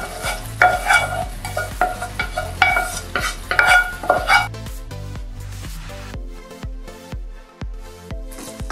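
Roasted fresh turmeric is stirred into masala frying over a low flame, giving loud rhythmic scraping and sizzling at first, then softer, evenly spaced stirring strokes with the fry dying down.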